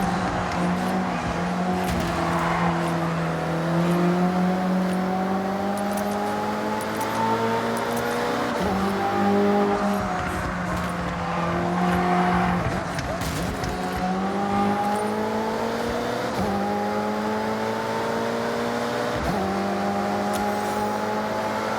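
Race car engines in the Forza Horizon 6 video game, set in Japan, howl loudly and continuously, their pitch climbing and dropping again and again as the cars shift gears and accelerate together.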